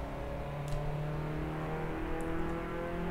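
A Lotus Elise SC accelerates around the Silverstone National circuit, a faint steady engine drone with a slowly rising pitch heard from inside the car, without speech.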